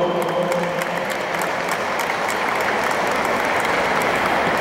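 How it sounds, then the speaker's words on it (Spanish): A crowd applauding at a union's 38th anniversary celebration in Mazatlán honoring retirees, a dense continuous roar of many hands clapping that holds steady for several seconds, full and fairly loud. "Un fuerte aplauso, por favor."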